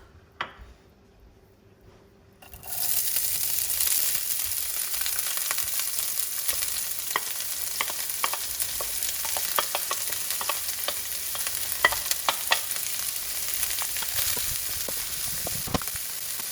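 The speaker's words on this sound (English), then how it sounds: "Next, I'm gonna saute the rice. The onions." Rice and onions frying in hot oil in a pan for fried rice, a loud continuous sizzle starting abruptly after a quiet moment, with scattered ticks and scrapes from stirring throughout.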